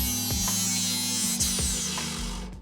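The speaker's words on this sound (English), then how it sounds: "we're just gonna grind it down and go with the flow until it looks kind of right" A power grinder works down excess metal in a car's engine bay, giving off a steady, buzzing mechanical whine with a few brief bumps in pitch as it bites into the steel, fairly close, with no speech.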